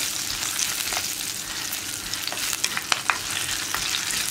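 A ginger, garlic and chili powder paste fries in hot oil for a Kottayam-style fish curry, giving a continuous close sizzle broken by light spatters and stirring scrapes.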